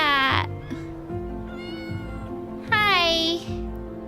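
A black cat meows twice up close, a short call near the start and a longer rising and falling meow about midway, with a voice faintly present in the room.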